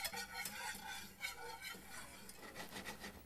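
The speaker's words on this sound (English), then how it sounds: "So keep whisking" A whisk scrapes and stirs a thickening sauce in a pan for pork tenderloin with blue cheese, giving a soft, rhythmic swishing with faint sizzling, close and quiet, with no talking.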